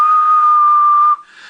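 A single steady, loud whistle is blown into a CB radio microphone and carried on the amplified signal for about a second before cutting off into hiss.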